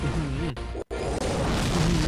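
A sudden booming explosion goes off in the mobile video game Poke Saga during a Pokémon battle, over the game's steady music.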